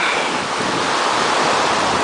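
Sea waves wash steadily against rocky shore near Siracusa, Sicily, a continuous broadband roar of surf with wind noise on the microphone and no voices.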